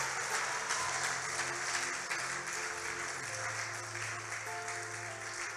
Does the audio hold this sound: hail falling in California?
no